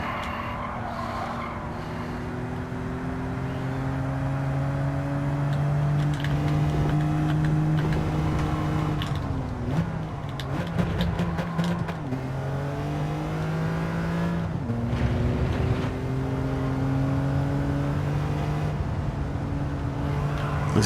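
A slow car in Gran Turismo 7 with a real manual gearbox, engine droning and rising through the gears, with pitch drops at shifts, tyre squeal and a steady loud racing whine throughout.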